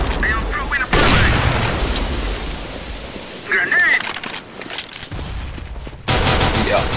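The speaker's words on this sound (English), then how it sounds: "I am throwing a flashbang!" Video game firefight with a flashbang thrown amid gunfire, dense continuous shooting and bursts with loud impacts throughout, and a sudden heavy blast near the end.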